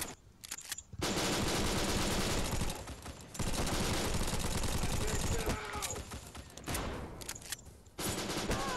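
Rapid UMP submachine gun fire in the shooter game Bullet Force comes in long, dense bursts separated by short pauses, loud and close throughout.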